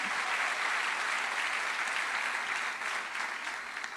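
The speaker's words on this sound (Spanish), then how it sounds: "Aplauda fuerte al Señor en esta mañana" A church congregation claps loudly during a morning service, a dense continuous applause that holds steady for a few seconds before thinning slightly at the end.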